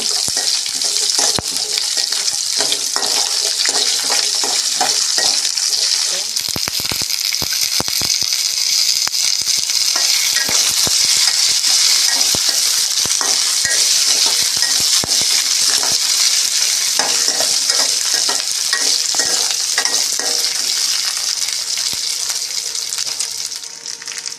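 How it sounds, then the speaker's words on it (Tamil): Small shallots sautéing in a pan for sundakai (turkey berry) chutney, a loud continuous sizzle and crackle with occasional stirring scrapes and clinks throughout, no talking. "சின்ன வெங்காயம் ஒரு பத்து வெங்காயம் எல்லாம் சேர்த்து நல்லா வதக்கிக்கங்க"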